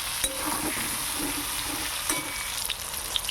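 Pointed gourd pieces frying in oil with turmeric, a steady close sizzle broken by stirring scrapes and light pan knocks.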